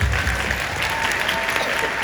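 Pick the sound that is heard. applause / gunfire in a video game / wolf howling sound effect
applause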